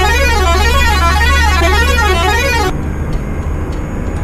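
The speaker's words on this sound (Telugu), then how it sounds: "వినిపిస్తాను హార్న్లు కూడా" A bus horn in a bus-driving game, set on the Nellore to Bengaluru route among AP and TSRTC and private buses, plays a loud warbling melodic tune for almost three seconds and then cuts off, leaving engine rumble underneath.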